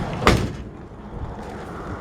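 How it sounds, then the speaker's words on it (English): An old 1955 Ford F100 truck door swings and bangs shut with a single solid thud, followed by quiet room noise. "Doors open and shut, nice."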